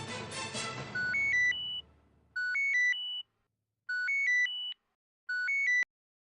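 A telephone ringtone in a Hindi TV serial: a repeating electronic melody of stepped beeping tones that plays four times with short gaps, clear and alone after a brief burst of louder background sound at the start.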